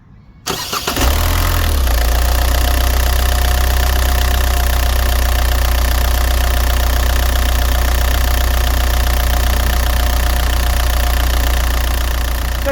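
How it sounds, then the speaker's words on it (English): A diesel engine in a CB-equipped vehicle cranks and catches, then settles into a loud, steady, even idle hum close by that runs on unchanged to the end. "let's go and start her over, so you can listen to the hum of a diesel engine"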